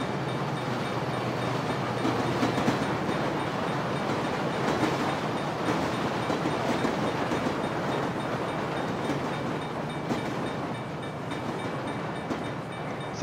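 A train rolls past in Grand Theft Auto 5, a steady rumbling wagon noise with faint clickety-clack from the wheels, continuous and fairly close throughout with no talking.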